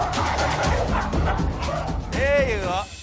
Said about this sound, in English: Many exciting dogs here.